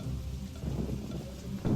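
Steady rain and a thunderstorm roll through a narrated animal fable, with a continuous loud wash of rainfall and low rumbling thunder swelling near the end.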